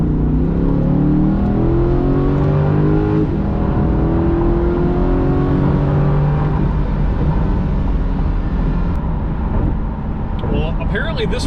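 A 2020 Corvette accelerating hard at full throttle, engine roaring loud and close with rising pitch sweeps broken by several quick gear shifts, each dropping the revs before climbing again; a person talks over the engine noise.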